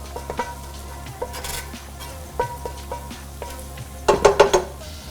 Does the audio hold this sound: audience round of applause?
no